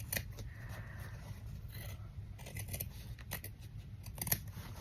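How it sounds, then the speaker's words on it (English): Scissors snip a small piece off to form a tab during an art session, giving a few quiet, close, irregular cutting clicks and soft rustles. "I'm thinking of making it a bit more like a tab, so I wanted to cut that little bit there."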